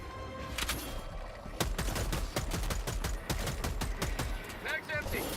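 Rapid gunfire from the shooter game Helldivers 2, dense volleys and bursts of shots continuing throughout, loud and busy with some talk underneath.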